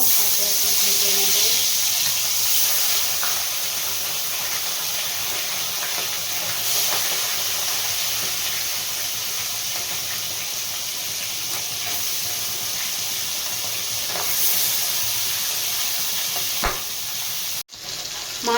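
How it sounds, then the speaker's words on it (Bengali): Fish sizzling steadily in hot mustard oil in a pan, a continuous loud frying hiss with faint crackles and stirring, ending with a short clatter. "মাছগুলো এক পিট ভাজা হয়ে গেছে"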